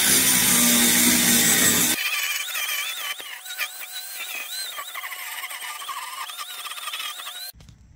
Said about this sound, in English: I'm gonna grind it down a little bit, see if I need any more welds